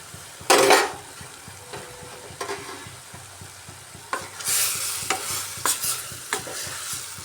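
Cabbage sizzles in a pan while a spoon stirs it, with bursts of louder frying and repeated scraping and clanking against the metal, close and without speech.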